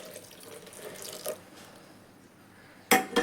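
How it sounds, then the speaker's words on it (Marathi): Water runs and splashes into a pot as it is rinsed in a Konkan kitchen, a soft steady flow near the mic that ends in a brief, louder splash. "ह्याच पाणी आपण त्याच्यात ओतायचं"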